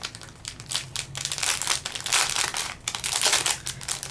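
Plastic packaging around a craft ornament crinkles and crackles nearby as it is opened, a steady stream of sharp rustling for several seconds with no talking.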